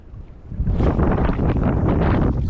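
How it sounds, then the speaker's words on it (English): Strong wind buffets the microphone in loud, continuous gusts at coastal lagoons, rising after a quieter start and roaring steadily with no voices. "Super windy."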